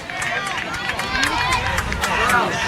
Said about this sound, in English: Some advice from the crowd.